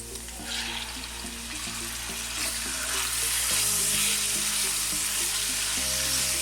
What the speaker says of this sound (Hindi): चिकन को हल्का सा भूनेंगे